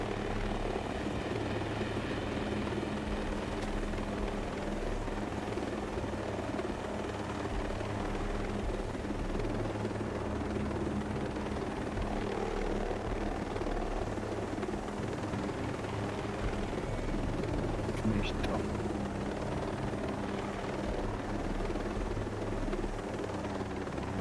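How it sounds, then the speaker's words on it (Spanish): Helicopter in the video game Ghost Recon Breakpoint, a steady loud rotor drone and engine hum running continuously throughout with no talk. "Y usa el helicóptero ese que lo dejan ahí."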